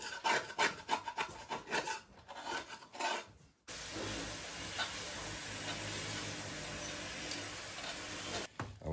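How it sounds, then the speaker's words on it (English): Glued rubber is scraped off a part of a 1994 GMC Vandura G3500 van in a series of rasping, rhythmic strokes, followed by a long steady scraping rasp, close and alone. "So I scrape off this big hunk of rubber here."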